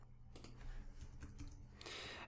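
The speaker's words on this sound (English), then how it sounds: "So just type that in again." Soft typing on a computer keyboard, a few scattered key clicks and then a quicker burst near the end, faint and close.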